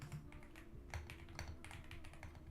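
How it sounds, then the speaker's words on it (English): Computer keyboard keys clatter in quick, uneven bursts of close clicks and taps, heard alone without talk, at a desk during live trading of index futures. "I should get a quiet keyboard."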